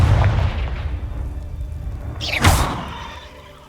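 A Confringo explosive spell blast from Hogwarts Legacy, a single loud whooshing burst that swells and booms about two-thirds of the way through, over a steady low rumble of game ambience.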